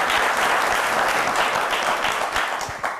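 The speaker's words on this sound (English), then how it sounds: "Give her a round of applause, please." Sustained applause from an audience, steady and dense clapping throughout, fading slightly toward the end.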